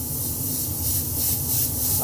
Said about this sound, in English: I'll do it with the airbrush gun to create a speckled effect